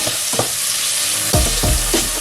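Sliced onions fry hard in an oiled pan, a loud, steady sizzle close up. Several spoon strokes stir through them, each adding a brief scraping swish over the constant hiss.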